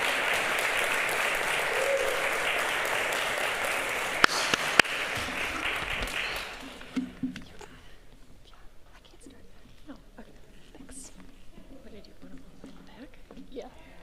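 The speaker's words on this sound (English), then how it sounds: "we can just give them a round of applause for being amazing." An audience at the Madison College nursing ceremony claps steadily for about six and a half seconds, then the clapping breaks up into scattered taps over quiet room noise.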